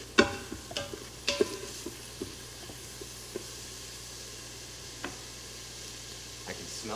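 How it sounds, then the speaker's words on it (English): Garlic stirred and sizzling in a pan for vegan collard greens: a faint, steady frying hiss with several soft utensil scrapes and clinks, a few sharper knocks early on. "Give that a stir, because we don't want the garlic to burn."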